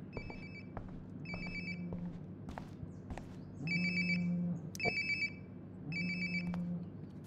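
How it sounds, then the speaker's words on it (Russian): In Life Is Strange: Before the Storm, a phone rings nearby in repeated electronic trill bursts, four or five rings spaced about a second apart, over a low background hum and faint footsteps. "Похоже, мой телефон где-то рядом."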